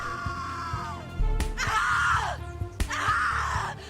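A woman's anguished screams in the horror video game The Cat Lady, two long, loud, strained cries close up, separated by a brief pause, with thuds under the first.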